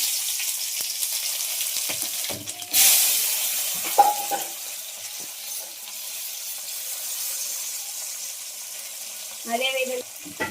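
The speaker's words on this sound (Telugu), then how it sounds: "అదేవిధంగా పచ్చిమిర్చి అల్లం చిన్నపాయ పేస్ట్ కూడా వేసుకుని మొత్తం బాగా ఫ్రై అయ్యే వరకు కలిపి పెట్టుకోవాలి." Onion, tomato and green chilli fry in a pan for a Kurnool-style pulao, giving a steady close sizzle with occasional clinks and scrapes of stirring and no talk.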